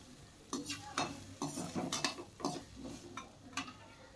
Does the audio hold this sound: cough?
no